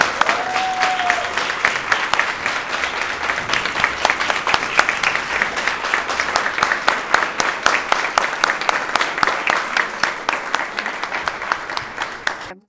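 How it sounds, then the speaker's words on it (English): An audience applauds warmly for several seconds, the clapping settling into a loose rhythmic beat before fading out. "Let's give them a big round of applause."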